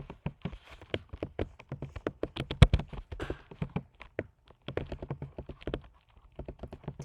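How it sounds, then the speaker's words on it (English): Typing on a computer keyboard: irregular bursts of close, crisp key taps with brief pauses between runs, no voices. "I'm going to type in Khan Academy"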